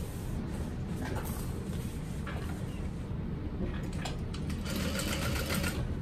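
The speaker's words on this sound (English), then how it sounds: "And we're gonna top stitch along the top." A sewing machine top stitching the lining of a crossbody bag, a steady close whirring hum of fast stitching that runs through the whole stretch with small pauses and fabric handling.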